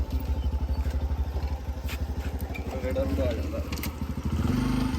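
A motorcycle engine in a Punjabi village thumps out a fast, even putter close by, with a voice talking over it.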